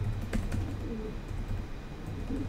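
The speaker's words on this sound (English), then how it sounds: "Let's try typing my user." Keys on a computer keyboard are typed in a short burst of soft, close clicks over a faint background hum.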